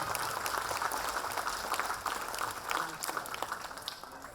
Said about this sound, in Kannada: ಒಂದ್ಸತಿ ಬರಲಿ ಜೋರಾಗಿ ಚಪ್ಪಾಳೆ